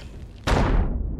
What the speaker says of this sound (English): Hopefully, he heard that explosion.